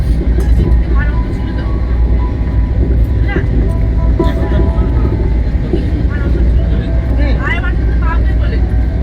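A passenger train on a long sleeper journey to Jaipur fills the carriage with a loud, constant rumble and rattle, with faint voices and occasional squeaks riding over the steady roar.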